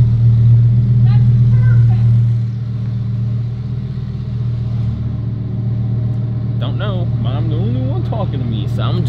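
A car engine idles steadily with a low, constant hum that runs through the whole stretch, while people talk over it.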